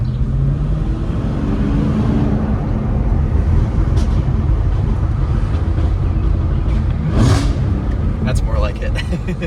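A Cadillac CT5-V Blackwing engine in its louder drive mode, a steady low rumble throughout with a brief swell of revving, while people talk over it inside the car.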